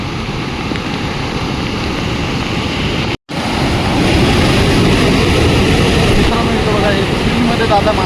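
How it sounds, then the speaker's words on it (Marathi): River water pours over a weir and the road beside it during heavy flooding, a loud steady roar of rushing water close by that breaks off briefly, with voices talking over it. "त्याच्यावरून पाणी येत आहे"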